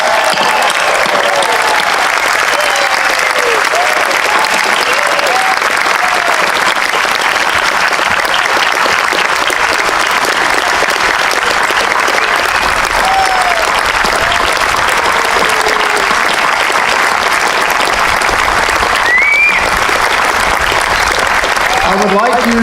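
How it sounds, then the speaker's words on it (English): Sustained applause from a crowd of people honoring new citizens at a July Independence Day naturalization ceremony, a steady dense roar of clapping with a few voices and whistles rising over it, carrying on at full strength throughout. "How about a round of applause for our new citizens?"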